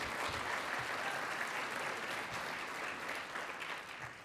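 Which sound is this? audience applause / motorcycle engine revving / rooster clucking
audience applause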